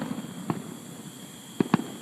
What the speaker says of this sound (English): Friday night fireworks at Busch Gardens.